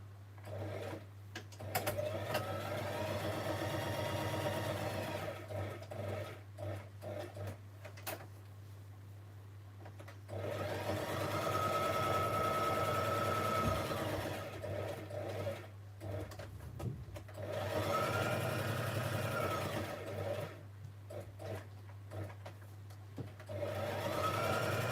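A sewing machine stitches in several bursts, each a fast, even mechanical whir broken by short pauses and small clicks, fairly close and steady with no talking.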